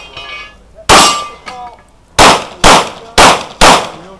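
Gunshots from an HK VP9 pistol at a USPSA shooting match, five loud sharp reports, one early, then a pause and a quick string of four, each with a short ringing echo, close and alone.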